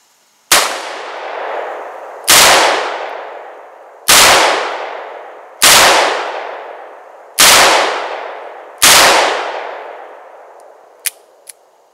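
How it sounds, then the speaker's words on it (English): .357 Magnum revolver fired outdoors, six loud sharp reports spaced about every second and a half, each with a long decaying echo, followed by a couple of faint metallic clicks. "Now we'll shoot the Magnum."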